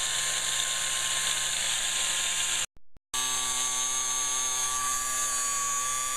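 An old fuel pump with 88,000 miles from an Audi A8 runs with a steady, close, high-pitched electric whine and mechanical buzz, briefly cutting out near the middle before starting again.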